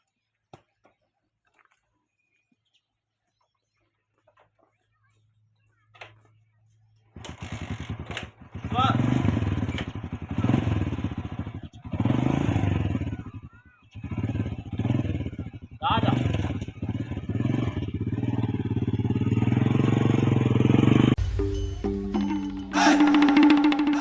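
Motorcycle engine running steadily and loudly for most of the stretch, starting after a quiet opening, with a brief dip midway and a louder rev near the end.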